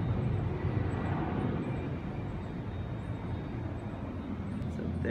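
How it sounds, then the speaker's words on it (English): A steady, broad engine roar from a jet taking off on the runway in Puerto Rico, constant and fairly loud, with no voices over it. "this plane is taking off right here"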